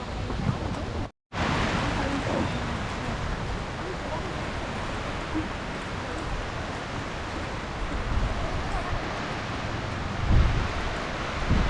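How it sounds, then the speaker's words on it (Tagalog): Heavy rain falls steadily in a dense, hissing roar outdoors at a farm harvest, with a brief cut near the start and voices faintly talking beneath the downpour. "Yan na po, talaga po namang grabe ang ulan."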